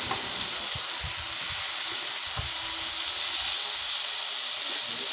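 Tomatoes go into a pan of frying prawns with potatoes, a loud constant sizzle with soft knocks and stirring sounds in the background.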